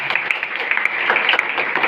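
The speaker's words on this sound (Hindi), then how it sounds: "जोरदार ताली बजाइए।" Steady crowd applause with dense overlapping claps, sustained and fairly loud for the whole two seconds.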